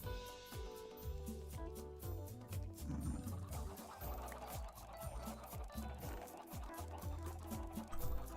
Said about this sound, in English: Yeah, chickens.